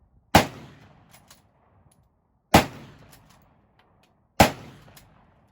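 Three sharp, loud rifle shots from a military surplus rifle at a shooting challenge, evenly spaced about two seconds apart, each ringing out briefly before fading into quiet.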